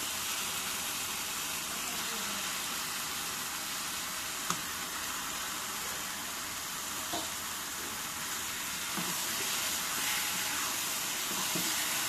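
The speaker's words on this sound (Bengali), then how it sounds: "মাছ দিয়ে দিব, বড় শিং মাছ।" Large stinging catfish frying in a pan of cooked-down tomato masala, giving a steady, dense sizzle that runs on without a break, with a few faint clinks and stirs on top.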